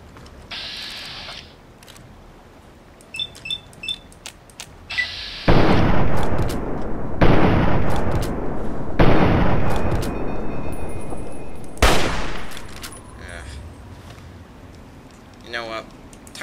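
Hunting rifle shots and explosive blasts in Fallout 3 against slow Mirelurks, several heavy booming reports spaced a second or two apart, loud and close, with brief mechanical clicks between and someone talking.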